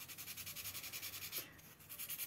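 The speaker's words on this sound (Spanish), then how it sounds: "lijamos los lados, que no quitamos mucho, pero hay que lijarlos también para que no se nos marquen" Hand sanding the sides of a surface, a steady rhythmic rasping rub repeating in quick even strokes with a brief pause midway, close and fairly quiet with no talk.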